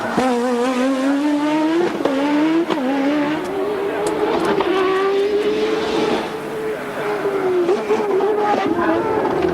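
A 1986 Formula 1 car with a BMW engine during Australian Grand Prix qualifying, braking for the last hairpin and then accelerating hard down the pit straight; a loud, close engine whine rises through the gears, with brief downshift dips, continuous throughout.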